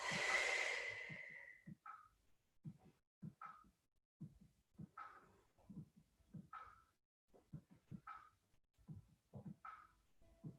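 Slow, deep breathing during a yoga stretch is heard close up. A long exhale comes first, followed by a regular pattern of soft inhales and breathy exhales in a quiet room.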